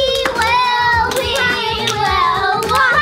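Rhythmic hand claps in a stomp-stomp-clap pattern, loud and close, repeating about every 0.7 seconds over a continuous bed of sustained musical tones, with no voices heard.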